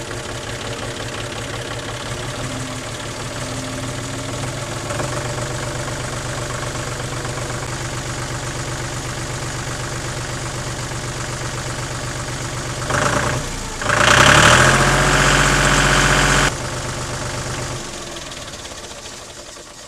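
John Deere 5103 tractor diesel engine running at a steady, loud, close knocking idle, with a brief burst of revving or clatter near the end before it settles back.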